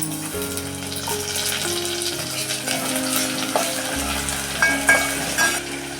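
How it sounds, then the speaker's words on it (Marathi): Tomato and onion frying in a pan for a spicy egg curry, a steady close sizzle with occasional stirring scrapes and light clinks, no voices. "टॅमॅटो आणि कांदा ना चांगला शिजवून घेणार आहे मी"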